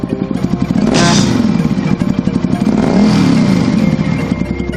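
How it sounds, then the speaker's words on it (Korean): A motorcycle rides past close by, its engine revving and rising to a loud peak near the start, then droning on with a steady throbbing rumble and a second swell of revving. "다음은 드디어 오토바이 출격."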